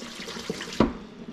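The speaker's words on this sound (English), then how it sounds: "I'm gonna pour some of that out, since I haven't put any salt in here yet." Excess water is poured out of a cooking pot into a sink during preparation of a Niçoise salad, giving a brief splashing gush over a soft background of running liquid, with no talk.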